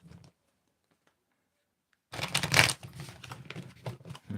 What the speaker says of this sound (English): Glenn, tell me when to stop shuffling